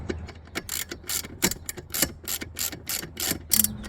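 A hand ratchet tightens U-bolts on a truck awning mount, giving a quick, steady run of close, crisp clicks.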